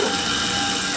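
Taig CNC mill running an end mill routine with a 1/8 inch end mill, cutting a 1 inch steel bar, producing a loud, steady, dense mechanical grinding whir that continues without pause.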